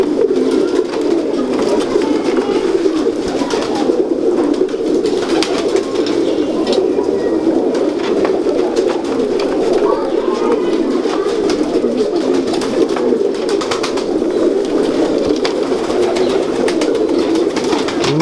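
Teddy and Salari breed pigeons cooing steadily at close range, a continuous throaty murmur of several birds layered together, with brief rustles and no speech.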